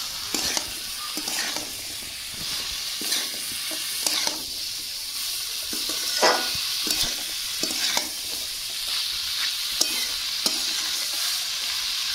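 Chopped ash gourd sizzles in hot spice masala in a Bengali home kitchen, a steady fry with a spoon scraping and stirring at close range and no talk.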